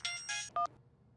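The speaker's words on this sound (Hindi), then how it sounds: "अंगूरी का फोन है अम्मा" A mobile phone rings with a few short electronic tone bursts in quick succession, clear and close, then fades to a quiet room.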